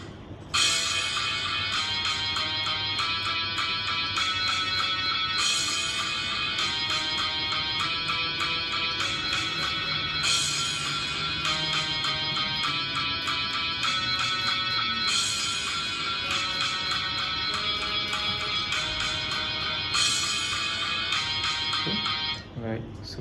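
Guitar plays the chorus of a children's song, a steady rhythmic pattern of bright repeated chords and notes lasting over twenty seconds, with a voice present alongside the playing.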